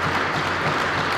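A short burst of audience applause at an outdoor padel match in Narbonne after a behind-the-back shot, a steady, fairly loud patter of clapping from a crowd.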